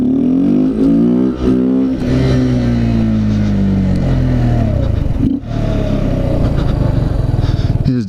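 Honda Z125 motorcycle engine revving hard and continuously during wheelie practice, loud and close, with pitch rising and falling through throttle blips and a brief dip near the middle.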